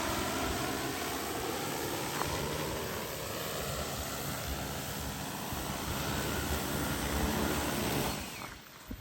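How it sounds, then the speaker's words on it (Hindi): An agricultural pesticide-spraying drone flies over a farm field, its rotors making a loud, steady, broadband whirring drone that holds constant for the whole stretch before dipping slightly at the end. "लेकिन ये ना दवाई छिड़काए वाला ड्रोन है।"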